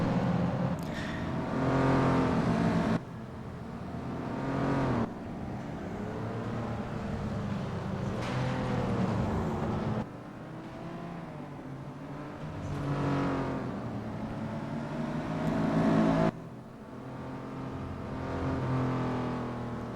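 Race cars roar through a FlatOut banger-racing replay, engines droning and revving loud and close throughout with shifting pitch as cars accelerate and pass.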